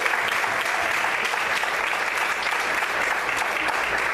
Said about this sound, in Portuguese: Será que você pode aplaudir e exaltar o Senhor essa noite?